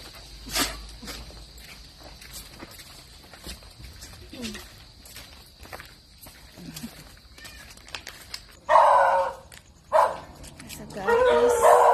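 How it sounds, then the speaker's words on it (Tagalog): Several dogs barking around rural homes on a rainy afternoon, scattered distant barks early, then loud close barking bursts near the end, with footsteps and light voices in between. "Sa guys, maraming aso."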